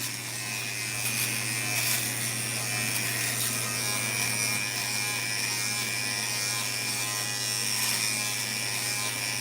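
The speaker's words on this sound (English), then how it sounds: "Complete dry shave. I'm testing it out." An electric shaver buzzes steadily through a dry shave, a loud close whirring drone with gritty cutting texture running unbroken for the whole stretch.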